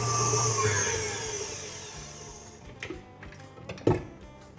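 An electric mixer beats butter and icing sugar on high speed, a steady loud whirring drone that fades out after about two seconds, followed by a few clinks and taps of the bowl.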